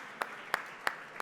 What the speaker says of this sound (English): So big round of applause for our startups.